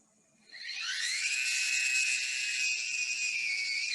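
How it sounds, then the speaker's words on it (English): A motorized driven wheel on a Gerber MCT cutting machine whines steadily at a high pitch, rising in pitch during the first second and then holding a sustained, fairly loud tone with a hissy edge. "that sound you're hearing is the motorized driven wheel."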